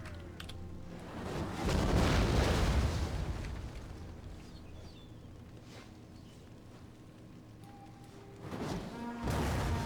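Explosive artillery rounds strike in a Total War: Attila battle, a heavy rumbling blast swelling around two seconds and fading, with a second loud impact building near the end over a steady low battlefield din.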